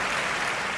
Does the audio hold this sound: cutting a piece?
no